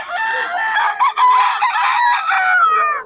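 Young gamecock stags crow loudly and close by, one long strained cock-a-doodle-doo call carrying on for about three seconds with a brief break partway through.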